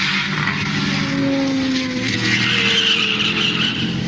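A Porsche 908 race car at the 1970 Sebring 12 Hours skids, its tires squealing and wavering over a loud, steady engine roar.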